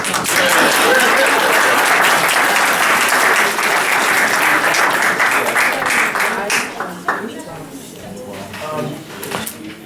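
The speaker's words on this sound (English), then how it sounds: "Yes, I'm ready for my claps." A room full of people applauds steadily at a Detroit community talk event, the dense clapping holding strong for about six seconds before thinning out as voices begin to come through.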